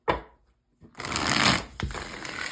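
Tarot cards being shuffled by hand: a brief snap of cards at the start, a short pause, then a sustained dense riffling rustle of the deck with a second burst, close and fairly loud, no talking.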